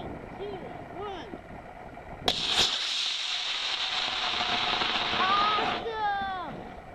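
A 6.5-foot Mean Machine model rocket on an E engine ignites with a sharp crack, then a steady roaring hiss of thrust for about three seconds fading away, with voices and wind before and after.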